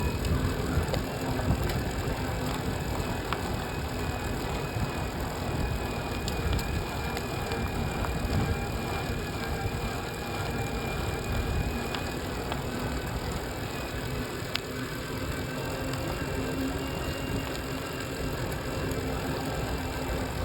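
Riding a Dirodi Nova mid-drive commuter eBike, with a steady, rough rush of wind and road rumble, a faint motor whine and occasional small rattles throughout, continuous and loud.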